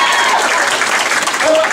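An audience at a comedy club claps steadily and loudly throughout, a dense wash of hands with no gaps, close and filling the room.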